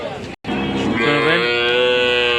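A cow at a cattle market moos loudly and close by in one long, drawn-out low call after a brief pause.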